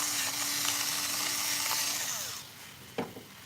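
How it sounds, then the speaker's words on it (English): A pepper grinder set to a coarse grind crunches steadily and loudly at close range for a couple of seconds, then fades out, leaving a brief knock or two at the end. "So this is the pepper grinder. I have it doing large grind."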